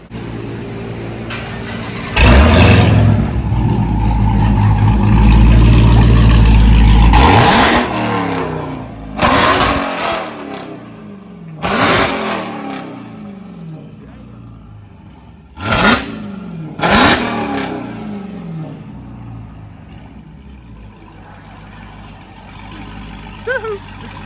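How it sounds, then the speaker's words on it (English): A 2023 Dodge Charger Hellcat with a mid muffler delete exhaust starts and revs hard, a loud sustained roar followed by several sharp blips of the throttle that fall back to idle, with voices talking in between. "you hit it, rev it a little bit"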